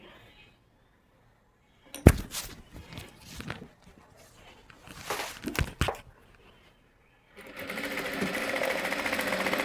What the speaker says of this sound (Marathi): इथे आपल्याला एक शिलाई करून घ्यायची